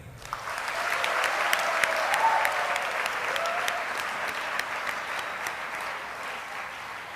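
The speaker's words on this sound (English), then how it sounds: "One more round of applause, please." Applause from the audience at a regional final of a college contest while jury members hand out awards and certificates, sustained, full clapping with a few sharp individual claps standing out, fading slightly toward the end.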